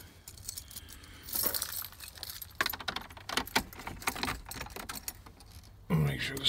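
A bunch of keys jangling and clinking, close and irregular, with scattered metallic rattles and a few sharper clinks, partly under a person talking.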